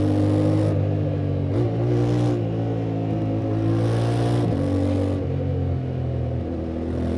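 Engine of a 2025 Yamaha Tenere 700 adventure motorcycle accelerating on a gravel and dirt road, pitch climbing then dropping sharply at each quick-shifter upshift, with several clean gear changes in a row and no talking.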